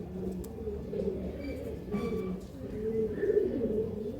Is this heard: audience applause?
no